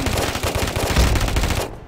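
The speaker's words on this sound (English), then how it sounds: "Who's shooting at me?" Rapid automatic gunfire in a video game, a loud, close, continuous burst of evenly spaced shots lasting under two seconds before cutting off.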